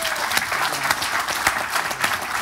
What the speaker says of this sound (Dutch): Mag ik een groot applaus voor onze gasten vanavond.